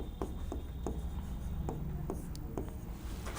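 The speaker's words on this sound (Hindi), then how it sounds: "तो यहाँ पे लिखते हैं" A pen scratches across paper in short, repeated strokes while writing out a maths solution, light close-up scribbling with a faint hum in the background.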